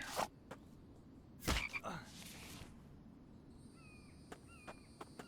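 Frog croaks in the survival video game The Infected, a few short separate calls over a quiet game ambience with a couple of louder thumps and clicks, moderately close.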